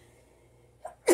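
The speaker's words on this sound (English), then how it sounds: "oh, excuse me, I'm gonna sneeze." A single sharp sneeze bursts out at the end, preceded by a brief quick intake of breath, close and otherwise quiet.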